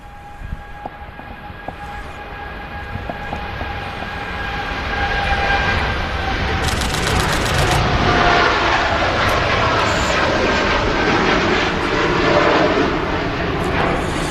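A TUI UK passenger jet bound for Punta Cana at Manchester Airport, its broad engine roar building steadily and growing louder through the second half with a faint whine on top, heard from a distance outdoors without speech.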